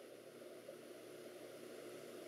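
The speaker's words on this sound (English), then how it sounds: "You can hear the fan spin up." Alienware Aurora M9700 desktop computer fans spinning, a faint steady airy whir with a low hum, very quiet throughout.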